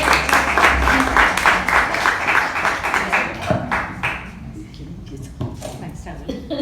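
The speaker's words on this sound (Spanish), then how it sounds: "les pido un fuerte aplauso" A crowd claps steadily for several seconds, the applause gradually thinning out and fading toward the end.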